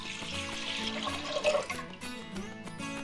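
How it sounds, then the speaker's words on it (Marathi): Water pours steadily into a heavy-bottomed pot for several seconds, a continuous splashing gush under a faint tonal hum. "आता याच्यातच मी पाणी घालून घेणार आहे."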